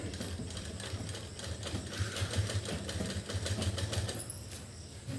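A sewing machine stitches a shirt up close, its rapid mechanical chatter running in steady rhythmic bursts with a low motor buzz underneath.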